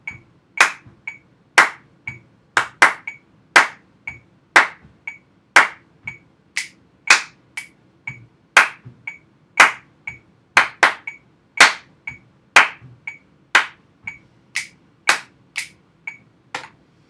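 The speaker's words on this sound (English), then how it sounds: "stomp and clap" Body percussion exercise of stomps and claps at a steady tempo, sharp close claps alternating with softer low stomps in a repeating pattern, with nothing else around them.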